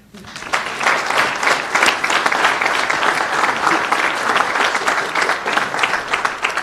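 Sustained audience applause for Governor Phil Murphy at a P-TECH STEM education event in Paterson, a dense, steady wash of many hands clapping that swells in quickly and holds loud throughout.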